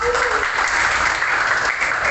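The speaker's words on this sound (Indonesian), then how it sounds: "Tepuk tangan yang benar dong" A classroom of pupils applauds during a lesson on Pancasila, a short, loud burst of massed clapping with a brief voice at the start.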